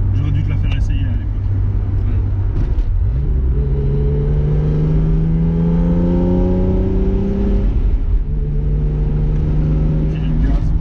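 A BMW E30 325i engine revs up loudly from inside the car, pitch sweeping upward through a long pull, easing off, then building again near the end.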